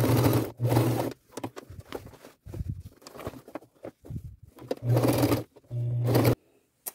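A sewing machine sews jeans along the edge in several loud, close bursts of buzzing stitching separated by quiet pauses and small handling noises.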